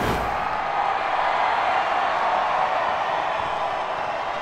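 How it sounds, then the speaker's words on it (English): Capacity rugby stadium crowd at half time in a Bath versus Harlequins Premiership match, a broad, steady roar of distant cheering and murmur filling the ground. "We've just heard we have a capacity crowd, and as you can hear, they're in good voice."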